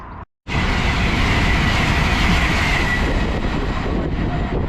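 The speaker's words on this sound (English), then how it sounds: "And there goes an Azuma heading over to London King's Cross." An Azuma train on the East Coast Main Line races through a station, a loud, close, sustained rushing roar that starts abruptly after a brief silence and holds steady, fading slightly at the end.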